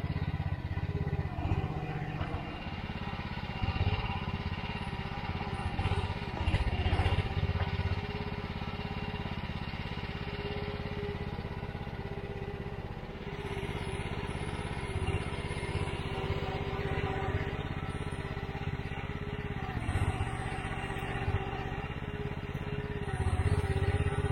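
A Mygale 600 micro excavator's engine runs steadily as it cuts a sloping path, a fairly quiet, even mechanical drone that holds for the whole stretch with only small changes in load.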